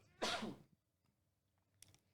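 A single loud sneeze bursts out in a quiet podcast studio, sharp and breathy, then fades to near silence before a faint second sound follows.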